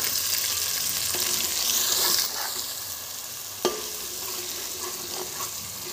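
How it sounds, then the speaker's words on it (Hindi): Tomatoes frying and being stirred in a pan for a mixed-vegetable mutton keema, a steady close sizzle with scraping strokes of the spoon and a sharp clack near the middle. "और ये टमाटर डालकर इसको भूनेंगे ताकि टमाटर इसमें अच्छे से घुल जाए।"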